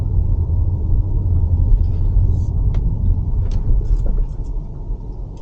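Steady low road rumble inside a Mercedes-Benz EQS electric car as it rolls along, with a couple of soft thumps and clicks as it crosses a bump.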